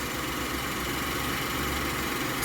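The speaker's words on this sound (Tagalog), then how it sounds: "At saka ito na ngayon yung tunog ng ating makina guys." Engine idling steadily after throttle body and fuel injector cleaning, a close, continuous low rumble with an even hum and no voices over it.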